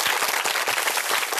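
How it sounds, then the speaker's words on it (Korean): A live audience at a Korean talk concert bursts into dense, steady applause, many hands clapping together in a full, even roar that fills the whole moment without any voices over it. "박수 부탁드립니다."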